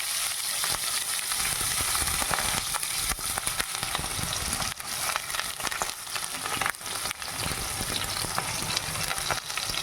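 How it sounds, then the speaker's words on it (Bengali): Onion, tomato and torn green chili frying in oil with tempering spices, a loud, dense and continuous sizzle with crackles throughout, close up and with no voices. "ফোড়ন ভাজা হচ্ছে, এরপরে আমি পেঁয়াজ, টমেটো আর কাঁচা লঙ্কা, ছেঁড়া কাঁচা লঙ্কা দিয়ে দিচ্ছি।"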